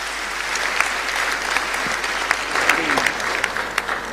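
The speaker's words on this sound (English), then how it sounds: "Let's give him another round of applause." Audience applause at an address on the state of education in Ghana, a steady wash of clapping from a large crowd with scattered louder claps, sustained throughout without pause.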